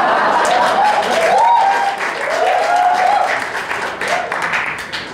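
Audience clapping during a student rock band's between-song talk at a university light-music club concert; loud, dense applause spreads across the hall while a voice carries on over it.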